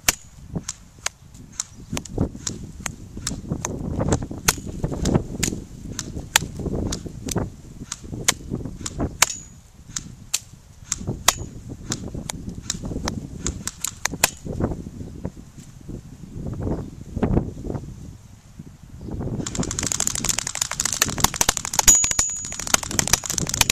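A Cyma AK74 airsoft gun firing at a target from 100 feet outdoors, with a long series of sharp, snappy shots in irregular bursts, some rapid, plus a steady high whine and a hissing burst near the end.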